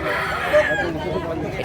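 A rooster crows once at a chicken selling market in Consolacion, North Cebu, close and clear amid chatter, with someone talking nearby.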